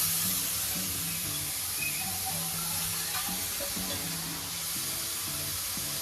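Grated carrots sizzle steadily in ghee over a low flame while carrot halwa cooks, a soft continuous frying hiss running under quiet background music.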